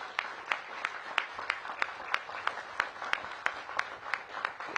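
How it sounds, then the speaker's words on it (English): Audience at a press announcement of a new police chief for the DC Metropolitan Police Department claps steadily, a soft even applause with rhythmic individual claps standing out, somewhat distant. "Give Pam a big round of applause."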